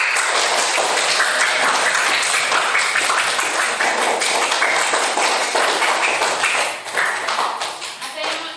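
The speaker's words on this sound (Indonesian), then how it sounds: "Tepuk tangan buat Mas Dedi." Classroom applause from students for a classmate, loud, dense clapping filling the room, fading slightly toward the end.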